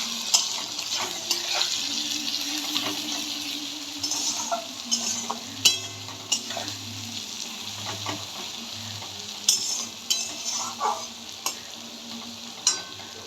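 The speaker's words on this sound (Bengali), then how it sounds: "পেঁয়াজটা ভালো করে ভেজে নিচ্ছি।" Onions fry in oil with bay leaves and whole garam masala, a steady sizzle broken by repeated scraping stirs of a spatula in the pan, close and alone with no talk.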